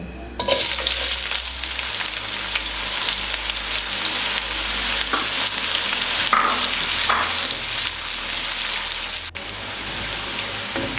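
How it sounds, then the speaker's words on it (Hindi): Onions frying in hot oil in a pan for chicken korma, a loud, steady close-up sizzle with dense crackling and occasional stirring scrapes, continuous throughout without talk. "जी प्याज को हमने गोल्डन होने तक फ्राई कर लिया है।"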